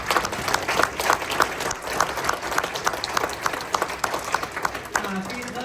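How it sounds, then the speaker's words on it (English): Audience applause at a youth hockey team's season-end banquet, a steady patter of many hands clapping across the room with voices and chatter mixed in underneath. "if we can please give him a big round of applause"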